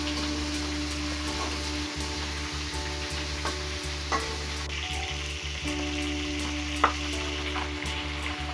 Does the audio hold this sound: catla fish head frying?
yes